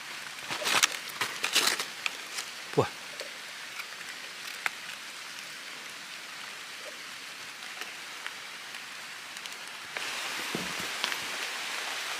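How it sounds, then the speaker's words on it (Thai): Light rain falls in a forest while mushrooms are being gathered, a soft steady patter with scattered nearby drips and rustles, growing a little denser toward the end, no voices. "ฝนตกแล้วครับผม"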